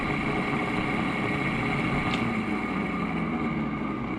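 A dirty, worn sewage pump runs with a continuous motor hum and drone that stays steady and fairly loud throughout.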